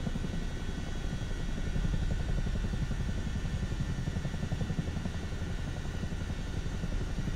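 A helicopter in Microsoft Flight Simulator 2024, lifting off on a rescue flight, with a steady rhythmic rotor chop and engine whine that hold at an even level throughout.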